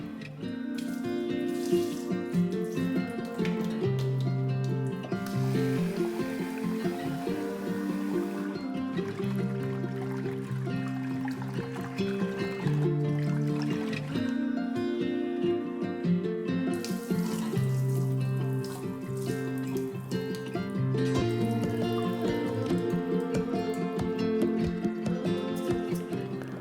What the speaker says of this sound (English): Rinse and drain the rice 2 to 3 times to get rid of the excess starch.